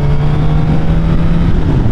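Suzuki GSX-S1000F motorcycle, a 2016 model, on a quick ride: a loud, steady engine drone with constant rumble and wind, held at an even pitch throughout.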